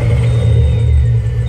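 A Pontiac car engine running after being started, a steady loud low rumble close up with a constant idle drone and no talking.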